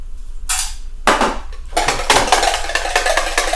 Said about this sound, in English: I'm going to just whisk my eggs here in this container.